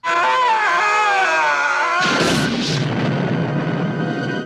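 A sustained harmonic scream gives way abruptly to a loud, rumbling helicopter explosion in the 1987 film Hard Ticket to Hawaii that crackles and roars on until the end.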